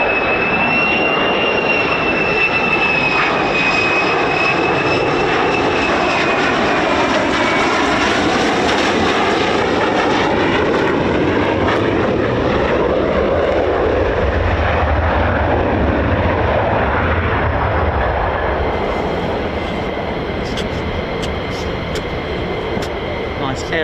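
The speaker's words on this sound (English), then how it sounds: "Now, although it appears as a wheelie, this is aerodynamic braking." F-15 fighter jet landing nose-high with aerodynamic braking at RAF Lakenheath, a loud sustained roar with a whining high tone that slowly eases off, voices talking over it.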